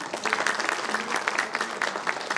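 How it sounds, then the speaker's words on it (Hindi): An audience at a BJP political gathering breaks into dense, continuous applause, loud and close, with many hands clapping in a fast irregular patter. "इनके लिए एक शानदार ताली।"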